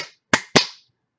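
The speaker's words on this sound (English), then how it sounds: "If you speak English well, clap your hands" Three sharp, dry hand claps in a children's song, the first trailing off from the start, then two crisp ones close together, each with a short decaying ring and near silence between.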